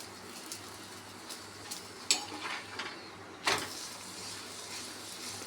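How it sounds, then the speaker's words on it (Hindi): A garlic paratha fries in ghee in a pan, a steady low sizzle broken by two clinking scrapes of a utensil against the pan, close by and without talk. "अच्छे से घी लगा के इसे चारों तरफ से अच्छे से सेक लीजिए"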